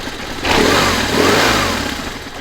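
Boxer twin engine of a BMW R1150RT touring motorcycle runs close by, rising from a low idle into a steady, rumbling rev that swells and eases over a couple of seconds.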